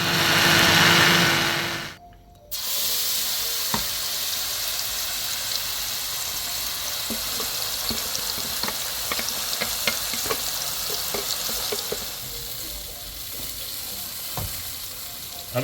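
Blended onion, ginger and garlic paste fries in hot oil for a fish gravy, a dense steady sizzle with scattered pops and stirring scrapes, briefly cut off near the start before it resumes, with no talking.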